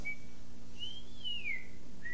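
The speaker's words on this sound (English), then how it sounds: "Hey, just whistle something." A person whistles a short, sliding tune alone, clear and close over a steady low hum in a podcast studio.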